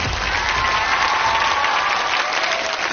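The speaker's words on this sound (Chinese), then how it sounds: "掌声欢迎蓝天救援队" An audience applauding to welcome the Blue Sky Rescue team on a holiday television show, steady sustained clapping from a large crowd, loud and continuous.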